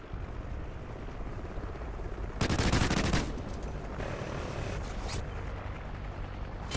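In Call of Duty Ghosts a helicopter drones steadily while a loud burst of rapid machine-gun fire rips out for under a second, followed by scattered fainter shots.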